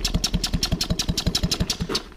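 A Solex 5000 moped engine runs close and loud after a service, its single cylinder firing in a fast, even putter of about six beats per second.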